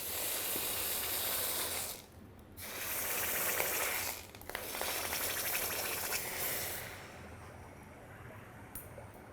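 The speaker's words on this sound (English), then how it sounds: "It's boiling the water right around the flask." A hot investment casting flask dipped in water gives off a steady, loud sizzling and bubbling hiss that breaks off twice for a moment as it is lifted and lowered, then fades toward the end.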